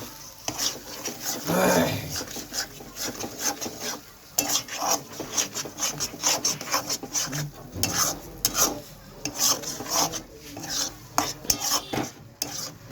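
A spoon stirs and scrapes through spices and boiled lentils in a pan while cooking tarka dal, in repeated rasping strokes with a faint sizzle underneath.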